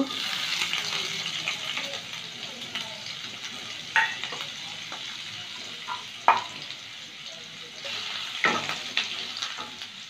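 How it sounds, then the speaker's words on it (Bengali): Chopped garlic fries in plenty of white oil under a steady hiss, broken by several sharp clinks and scrapes as a spatula stirs the pan. "এবারে তেলের মধ্যে একটু রসুন কুচি দেব।"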